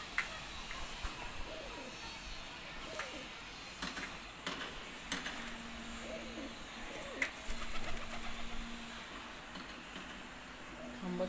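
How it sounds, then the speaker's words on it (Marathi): Pigeons gather near a house to feed, soft cooing and rustling wingbeats among birdsong, with some faint background noise and a low steady hum. "बघा कबूतर आले खायला."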